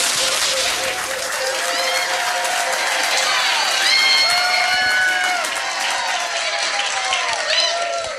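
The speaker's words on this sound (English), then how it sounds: "give him a huge round of applause" A trivia quiz crowd at The Yard breaks into loud, sustained applause and cheering, with voices calling out over the clapping throughout.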